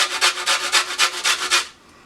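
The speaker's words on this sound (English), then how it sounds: "zest of 2 lemons." Lemon zest is grated in about eight quick, rhythmic rasping strokes, close and crisp, which then stop abruptly and leave near silence.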